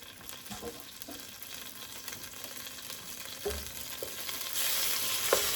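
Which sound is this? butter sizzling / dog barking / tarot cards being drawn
butter sizzling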